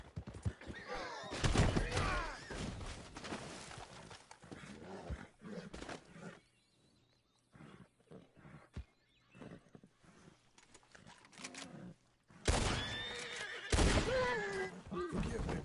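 A horse whinnies and snorts in Red Dead Redemption 2, with a loud burst at the start and another near the end, quieter rustling between.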